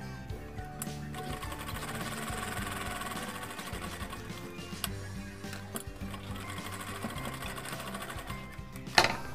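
An electric sewing machine runs steadily for several seconds, stitching a seam on a pair of ladies' pants or palazzo trousers, a close, even mechanical whir with a faint rhythmic needle chatter and a brief clunk at the end.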